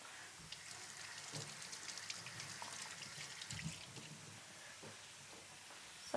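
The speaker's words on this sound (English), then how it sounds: "I will just rinse this." Running tap water rinsing a cutting board or knife in a home kitchen while potato rosti is prepared, a steady soft splashing hiss for several seconds with a few faint clinks, no voices.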